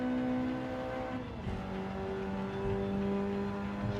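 Car engine in Gran Turismo 7 holding a steady tonal drone, with a brief dip and shift in pitch partway through like a gear change before it settles again.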